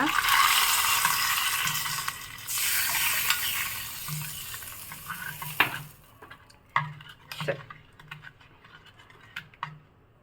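A loud hot sizzle fills the first half, then fades as a spoon scrapes and taps the pan in irregular clinks.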